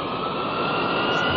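A jet airliner engine roars at takeoff in a brief, steady, dense whoosh heard at a moderate distance.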